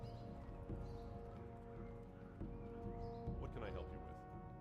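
Horse hooves clip-clop in World of Warcraft: The Burning Crusade Classic as a mounted character travels, a steady rhythmic run of hoofbeats up close, with a brief whinny-like burst near the end.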